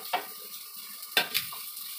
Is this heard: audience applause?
no